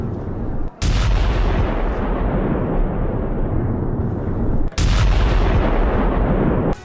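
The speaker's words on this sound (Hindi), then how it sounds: "रूसी बम धमाके से दहला एक बड़ा इलाका" A Russian ODAB-500P bomb explodes on a Ukrainian military post: two heavy booming blasts, each with a sharp onset followed by a long rumbling roar that fills the whole clip.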